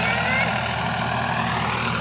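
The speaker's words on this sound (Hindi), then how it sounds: "तो ये देखिए ट्रैक्टर लग रखा है" A tractor engine runs steadily nearby with a constant low, throbbing rumble while a field is worked for potato planting.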